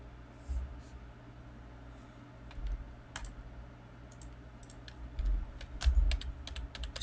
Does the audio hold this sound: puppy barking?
no